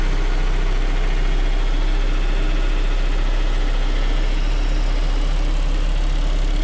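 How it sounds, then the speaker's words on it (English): A turbocharged car engine idles steadily after a turbo oil line install, a loud constant low rumble with no talk. "then we'll start her up, check for leaks, and go from there"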